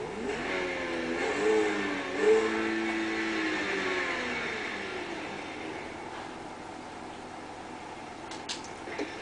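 A Pegasi Zentorno sports car in GTA 5 revs its engine, rising in a smooth climbing whine before settling into a steady, fading drone with no talk.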